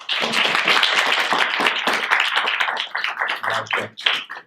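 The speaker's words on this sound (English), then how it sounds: "Give him a big round of applause" A small audience at a cartoon-focused talk show gives a round of applause for a guest being introduced, close, crisp individual claps that thin out and scatter toward the end.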